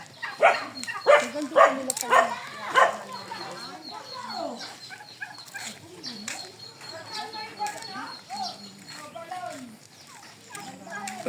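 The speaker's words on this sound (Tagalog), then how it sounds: "Dami pong alagang pabo." Domestic turkeys gobbling in repeated bursts nearby in Albay, Bicol, mixed with other birds, while people chat in the background.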